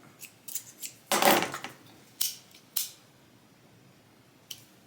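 Scissors snip a frayed fabric webbing strap, with a few light cuts, one longer crunching cut, then two more crisp snips and a faint final click, all close up with no talk.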